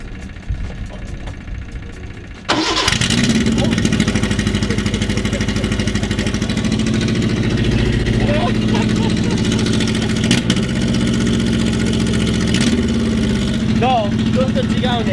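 A Nissan Sunny truck with its muffler removed cranks and fires after a few quiet seconds, then settles into a loud, rough, steady idle that fills the rest of the stretch close by.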